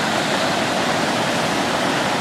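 Indian Ocean waves wash ashore at sunset on the west coast of Réunion, a steady close roar of surf and foam with no voices.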